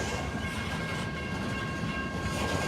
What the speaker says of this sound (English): The long train, probably 75 to 100 cars.